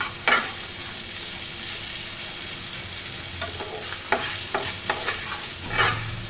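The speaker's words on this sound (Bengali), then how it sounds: "হাই ফ্লেমে রেখে আরও 1 মিনিট ভেজে নেব" Radish and shrimp fry on a high flame in a pan, giving a steady loud sizzle with a few scraping stirs of a spatula near the end and no talking.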